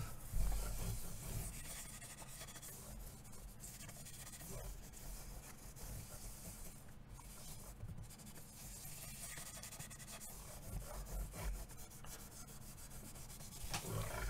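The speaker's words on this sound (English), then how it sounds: "we'll wipe off the excess" Excess finish is wiped off a piece of wood with a rag, a continuous soft rubbing and scrubbing sound, close and steady throughout with no pauses.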